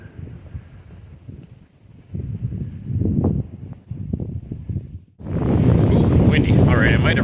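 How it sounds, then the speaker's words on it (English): Strong wind gusts buffet the microphone outdoors during a snowstorm at a hilltop shrine, loud rushing bursts after a quieter stretch with someone talking. "Ooh, windy."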